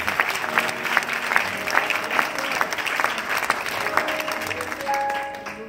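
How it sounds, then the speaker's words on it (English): Congregation claps hands at a church service, a loud, rhythmic, fairly steady clapping from a crowd with some voices and cheers mixed in, sustained over several seconds. "clap your hands"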